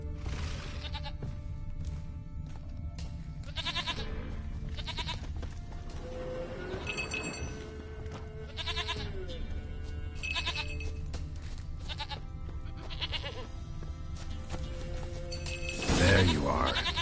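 A goat bleats several times within The Witcher video game, its wavering calls rising over steady game ambience, with a voice talking in between and a louder burst near the end.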